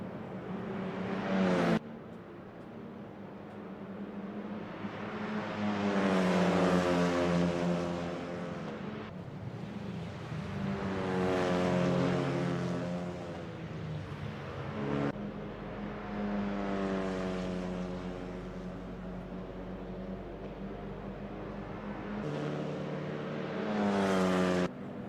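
Renault Clio Cup race car engines in a sim racing game at Bikernieki, revving and shifting through gears with rising and falling pitch, loud and continuous over about twenty-five seconds, with brief drops in power between bursts of acceleration.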